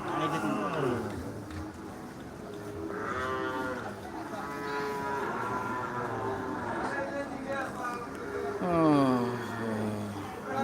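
Cattle and calves moo repeatedly at a busy morning cattle market in Dinajpur, several long drawn-out calls from different animals overlapping amid crowd murmur and people talking.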